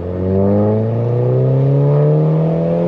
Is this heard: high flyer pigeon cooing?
no